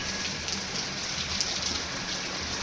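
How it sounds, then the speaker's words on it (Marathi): Steady daylong rain pours down outdoors, a dense, even hiss of drops striking surfaces close by, continuous and unbroken with no thunder. "सकाळपासून पाणी चालू आहे."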